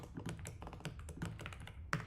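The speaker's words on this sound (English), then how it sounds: "My keyboard's double typing." Computer keyboard with faulty switches that double-type, keys tapped in a quick, uneven stream of soft clicks close by, fairly quiet and with no voices.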